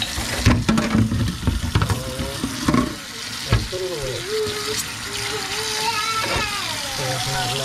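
Running water pours over a kitchen knife as it is rinsed at a sink, a steady splashing hiss with a few clinks, while someone talks over it.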